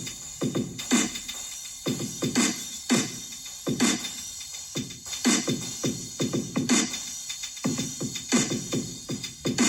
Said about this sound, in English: these drums right here sound like this, and they're rock and roll drums.